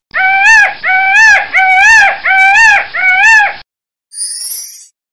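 Peacock calling loudly and close by: five harsh, wailing cries in quick rhythmic succession, then a pause and one shorter, higher-pitched cry, with no other sounds.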